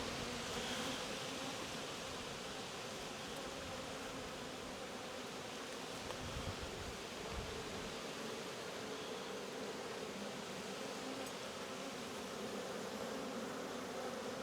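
Honeybees from an opened hive buzz steadily at close range throughout an apiary inspection of a queenless colony, a dense, even drone with a few low handling bumps partway through.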